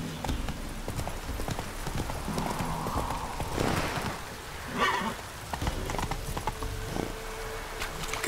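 Roach, the horse in The Witcher 3, gallops with a steady run of close hoofbeats and a short whinny; faint rain patters underneath.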